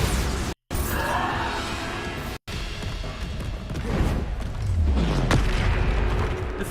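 A Bombarda spell goes off in a video game as a heavy, rumbling blast with crashing debris and a falling low boom. Dense, loud game noise fills the whole stretch, cut by two brief silent gaps.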